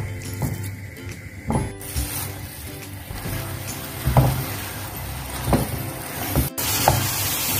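A sago mixture stirred in a non-stick pan on a stove for a Sri Lankan sago sweet, with thick, irregular scraping and thumping strokes of a spoon close by and a low background hum.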